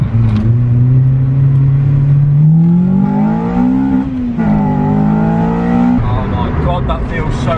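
Honda Civic Type R EP3 fitted with a short shifter accelerating on a 60 road, engine note climbing steadily through the revs with quick shift breaks around four and six seconds, loud and close from inside the car.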